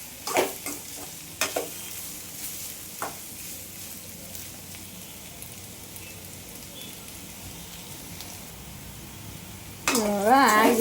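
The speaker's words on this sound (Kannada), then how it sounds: "ಸ್ವಲ್ಪ ಹೊತ್ತು ಹಿಂಗೆ ಫ್ರೈ ಮಾಡ್ಬೇಕು ಎಣ್ಣೆಗ," Radish palya sizzles steadily in hot oil in a pan, with a spoon scraping and clinking against it a few times early on and again briefly at the end.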